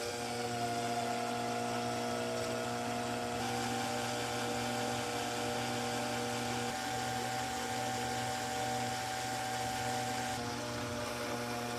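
A steady, fairly quiet mechanical whine runs unbroken while a cartridge case neck expander is sanded down for Gewehr 88 rifle ammunition reloading.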